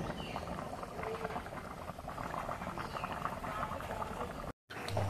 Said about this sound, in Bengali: এখন তরকারিটা ফুটছে, জলটা ফুটছে, হয়ে আসবে।